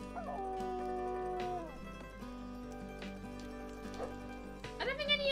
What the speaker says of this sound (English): I don't think any other dog in the game has a howl that deep.